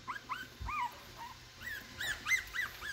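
Chihuahua puppies whimpering close by, a run of thin high-pitched whines and short yips in quick irregular bursts, some overlapping, with brief quiet gaps between.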